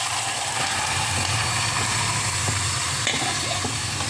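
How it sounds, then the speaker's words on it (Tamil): Curry leaves and fenugreek sizzle in a hot tempering for buttermilk curry, making a dense, steady hiss and crackle over a low background hum, with a few faint clinks. "கருவேப்பிலையை போட்டு இன்னும் மோரை ஊற்றி"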